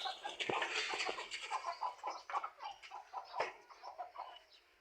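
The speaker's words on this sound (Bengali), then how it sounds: "এই যে আমার মুরগি এগুলা, আমার পালা মুরগি এগুলা।" Backyard domestic hens clucking nearby, a run of soft repeated clucks and short calls at moderate volume, quiet outdoors.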